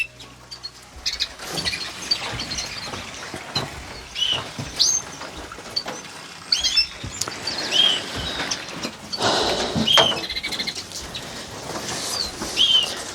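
Wings flapping and fluttering in a home bird room as hens are caught from their cages: irregular bursts of flapping and scuffling, close by, with a few sharp chirps between them and no talk.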